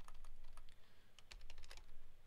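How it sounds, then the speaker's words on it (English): Variable names are typed on a computer keyboard for a jamovi statistics spreadsheet, producing a quick, irregular run of light key clicks over a faint steady background hum. "we can type in the variable names"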